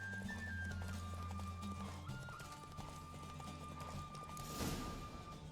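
A horse gallops in The Witcher 3, and its hooves give a quick, rhythmic clip-clop under a layer of game music and ambience. The hoofbeats stay at a steady moderate level all the way through.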